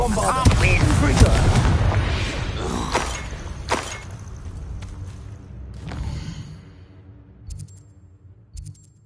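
Spell blasts from Bombardo and Confringo in the video game Hogwarts Legacy on PS5, a dense run of loud booms and crackling bursts early on that fades into lighter clatter and faint high chimes.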